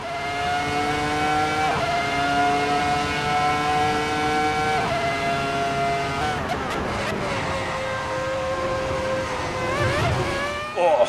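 V10 Formula 1 car engine in the F1 2003 video game at the A1 Ring, screaming at high revs with sharp upshifts and a rising pitch after each change, loud and continuous with no talking.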